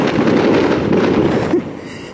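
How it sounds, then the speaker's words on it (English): Fireworks at a Sea World park crackle and pop in a dense, loud, continuous barrage, close by, then ease off near the end. "We can watch fireworks right here."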